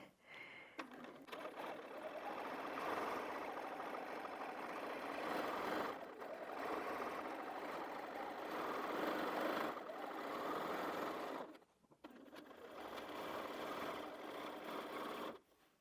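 Close, continuous whirring hum of a sewing machine free motion quilting with a BSR stitch regulator, running in long bursts with two short pauses.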